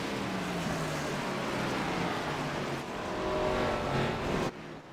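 Stock cars lap the short Martinsville track in a racing video game, engines droning loudly and continuously with pitch rising and falling as cars pass, then cutting off abruptly near the end.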